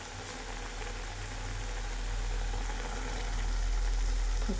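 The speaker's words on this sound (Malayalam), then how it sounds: "ഓക്കെ, അപ്പോൾ അങ്ങനെ നല്ലോണം തിളച്ചിട്ടുണ്ട് കേട്ടോ" Lentils boil steadily in a pot on the stove while being cooked for a pumpkin leaf thoran, giving a continuous low bubbling rumble that holds even and grows slightly louder, with no voices.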